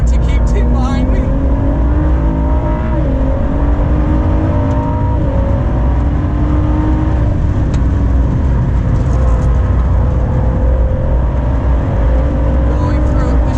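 Ford GT driven hard on a race track, engine roaring loud and close from inside with rising and falling revs through gear changes and braking, a voice talking over it.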